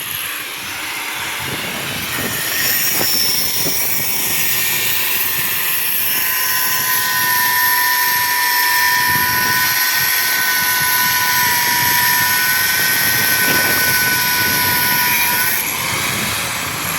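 Power tool cutting through the concrete columns of a house under construction, a continuous loud high-pitched whine with a steady grinding roar that holds nearly unbroken for the whole stretch.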